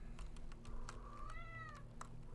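A domestic cat gives one short rising-and-falling meow, faint and nearby, over soft clicking taps and a low background hum.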